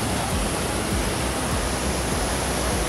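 Shivkhola waterfall pours down in a loud, unbroken rush of water, dense and steady from start to finish, with no voices.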